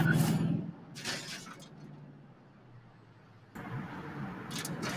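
A car engine starts in the Watch Dogs 2 video game with a short cranking burst, followed by a quiet idle rumble and a brief rise at the end, while someone speaks softly.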